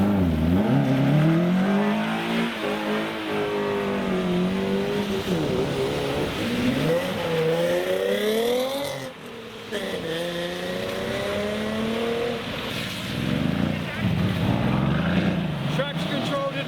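Cars accelerate away from a Japanese car meet in the rain, engines revving loudly in repeated rising pulls and gear changes on wet road, while people talk over the steady roar.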